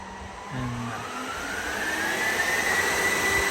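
HPE DL360 G10 rack server fans spinning up to a loud, steady roar, pitch climbing gradually and holding a high whine, close and sustained.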